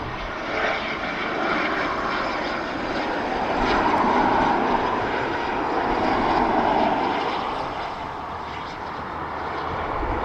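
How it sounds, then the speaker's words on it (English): A Cessna Citation business jet at Dublin Airport gives a loud, sustained engine roar that swells and fades slightly as the aircraft passes, heard alone without talk. "I haven't looked, but I presume it's a citation."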